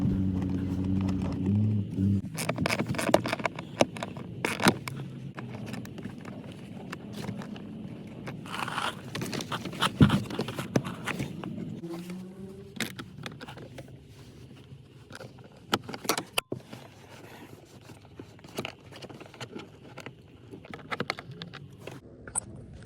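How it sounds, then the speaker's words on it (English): A 7mm socket wrench on a 2007–2013 Chevy Silverado or GMC Sierra, removing four bolts from the blower motor: scattered ratcheting clicks, scrapes and metallic taps, close and moderately loud, at an irregular pace. "Using a 7mm socket, some on an extension and some without, you're going to remove the 4 bolts."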